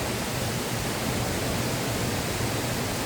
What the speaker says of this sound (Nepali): माथिबाट पानी आइरहेछ हो